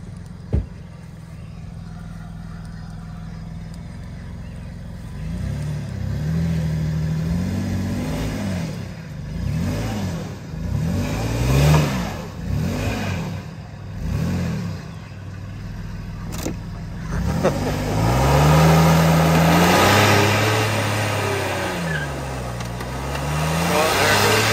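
A Dodge Nitro's engine revs hard during a burnout, rising and falling in repeated surges against a reverse rev limiter, close and loud, with a steady hiss of tyres underneath.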